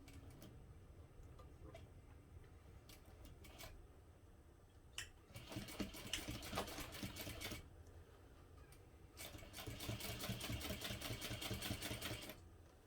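A sewing machine stitches a tote bag seam with a narrow allowance, starting with slow isolated needle ticks, then running in two fast rhythmic bursts, fairly quiet and close.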